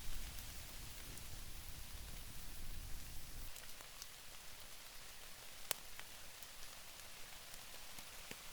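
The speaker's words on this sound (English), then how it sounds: "Still raining." Steady rain pattering on a tent at a campsite during rainy hiking trips, a constant hiss of drops throughout with one sharper drip-tap partway through.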